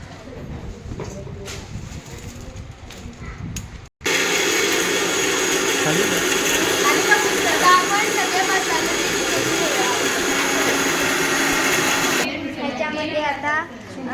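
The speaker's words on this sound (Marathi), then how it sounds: "हे सगळे मसाले आपण मिक्सरला लावत आहोत" An electric mixer grinder blends whole spices for tea masala, a loud steady whirring that starts abruptly after a few seconds of quieter sound, runs continuously for about eight seconds and then cuts off.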